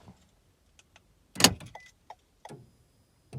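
A quiet Toyota RAV4 unlocking by remote key fob: a sharp click-thunk of door locks, then a few soft mechanical clicks and a faint chirp, in an otherwise calm setting.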